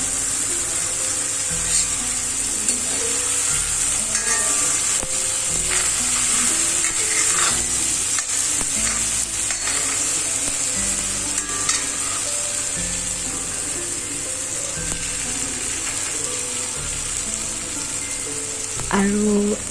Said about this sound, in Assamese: আৰু এয়া বিলাহীখিনি ভাজি আছোঁ,